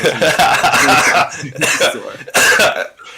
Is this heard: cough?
yes